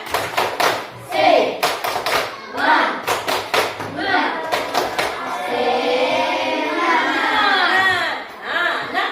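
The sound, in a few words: children doing rhythmic spirit clapping (tepuk semangat)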